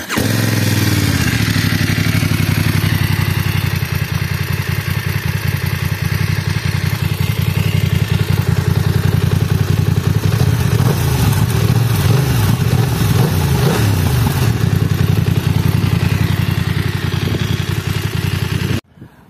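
A 2023 BMW F900R motorcycle's 900 cc parallel-twin fires up and idles loudly and close, a steady throbbing rumble with a few blips of the throttle before cutting off abruptly at the end.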